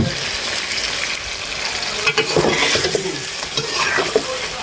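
Koi fish fry in hot oil in a pan, a close, dense sizzle with a spatula scraping and turning the pieces in several strokes, continuous and with no voices.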